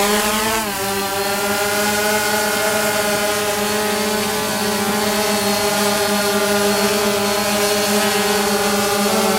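DJI Phantom 2 quadcopter motors spinning up as the throttle rises, a loud, steady, high-pitched buzzing whine that climbs briefly in pitch and then holds constant.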